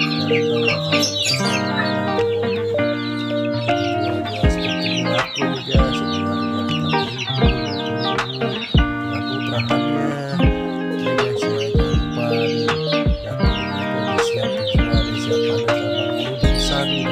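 A flock of chickens clucks busily as they crowd together, many overlapping close calls and chirps forming a dense, continuous chatter, loud and steady throughout.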